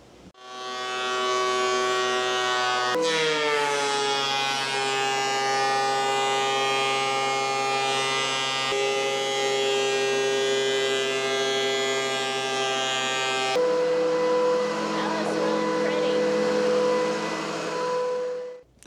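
A shop vac dust collector runs with a steady high whine as it fills a trash can with sawdust, the pitch shifting a few times as the load changes, with no talking.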